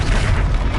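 The Accio spell is cast in the Hogwarts Legacy video game as one short, dense, booming rumble that fills the whole moment, loud and close, with no talk.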